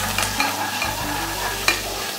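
Garlic, ginger and green chilli paste roasting in a pan for prawn biryani, with a steady close sizzle under repeated stirring scrapes and a few sharper clanks.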